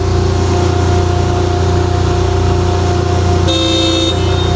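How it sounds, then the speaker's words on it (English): A crack sealing machine's horn blares in one short burst near the end, close and loud over a steady, droning engine hum that runs the whole time. "There's a horn."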